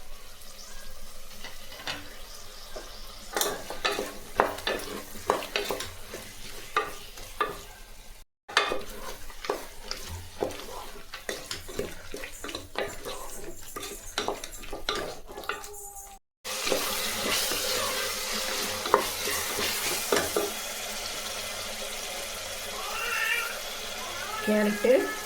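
Tomatoes sauté with ginger and garlic in a pan while being stirred, with frequent scraping and clattering over a wet sizzle that grows louder and steadier in the last third, and a couple of brief cuts.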